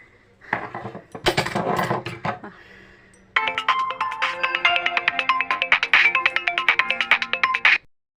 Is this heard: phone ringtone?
yes